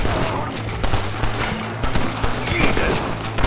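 Sustained volleys of rifle and pistol fire from the video game Red Dead Redemption crackle in dense, overlapping bursts near cave entrances, loud and continuous across the whole stretch.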